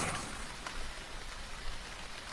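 Light drizzle patters steadily on surfaces, a soft even hiss of fine raindrops with no distinct individual hits, faint and continuous without voices.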